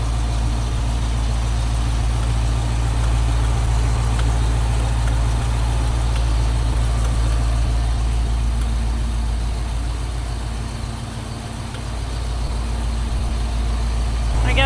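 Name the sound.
Bronco engine idling with a clicking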